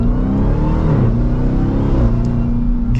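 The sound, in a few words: Dodge Durango SRT Hellcat engine revving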